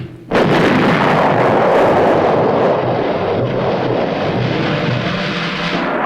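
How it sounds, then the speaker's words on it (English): Army artillery pounds hilltops above an enemy-held valley in Vietnam War footage: a sudden loud blast opens into a sustained roaring barrage that fades slowly. "the hilltops overlooking an enemy-held valley are pounded by Army artillery units to make way for the incoming"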